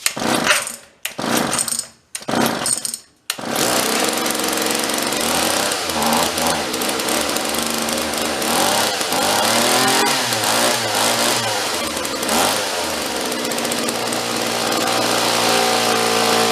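A John Deere chainsaw salvaged from the garbage is yanked with the pull cord a few times in short bursts, then sputters to life and runs steadily, its small two-stroke engine buzzing loud and close with slight rises in throttle.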